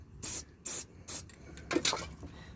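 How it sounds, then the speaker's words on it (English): Three short hissing bursts from a spray can of white lithium grease, evenly spaced, followed by a longer, uneven spray close by, applied to stabilizer bars on a Ford 8N farm tractor. "I'm just going to spray a little bit of white lithium grease on it."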